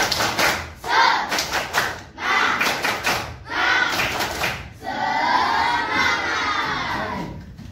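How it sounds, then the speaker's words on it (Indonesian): A classroom of children performs the 'tepuk semangat' clapping chant, with rhythmic claps and loud group shouts in bursts, ending in a sustained, energetic cheer. "Pak Ali mau kalian semua tepuk semangat."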